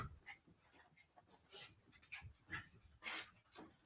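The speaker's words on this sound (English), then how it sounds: "I'm so darn tired of these dogs." A dog pants and whimpers close by in short, uneven bursts, with soft breathy huffs and small whines scattered through a quiet room.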